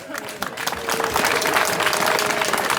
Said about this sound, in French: On peut les applaudir plus fort que ça